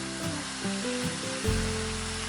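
Mussels sizzling as they fry in a hot pan for a chilli fry, a continuous close crackle with a few soft clunks of stirring, no talking.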